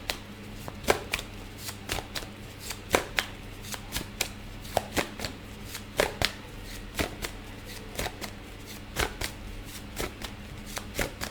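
A deck of tarot cards is shuffled steadily by hand: a long run of sharp, close cardboard slaps and riffles arriving in a regular rhythm, with soft room hiss between strikes and no talking.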